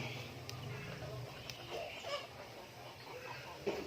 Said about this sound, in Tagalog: Ito mga manok namin mga boss.